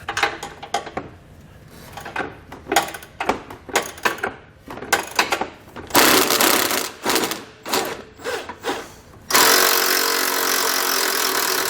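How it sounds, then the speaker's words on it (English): Removing nuts from a vehicle frame rail with an 18mm socket while installing a Demco tabless base plate: loud rapid mechanical rattling and ratcheting bursts, then a sustained buzzing run of a powered tool near the end. "I'm going to use a 18mm socket to get those removed."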